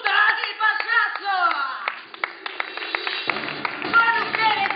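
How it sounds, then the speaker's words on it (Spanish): An audience clapping at a circus-themed show, scattered claps and taps under a voice talking, somewhat thin and uneven rather than a full roar. "¡Fuerte el aplauso!"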